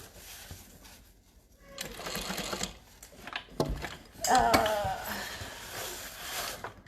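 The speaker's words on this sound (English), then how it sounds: "We're going to top stitch on the top panel." Sewing machine top stitching the top panel of an Everyday Tote at a long stitch length, running in uneven bursts of moderate loudness with a person speaking over it.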